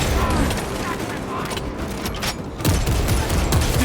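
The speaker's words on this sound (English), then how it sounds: "Throwing frag grenade!" Frag grenade blast in the video game Warhammer 40k Space Marine 2: a loud, dense burst of gunfire and booming impacts, with a sharp fresh surge of noise near the end, in a chaotic battle mix.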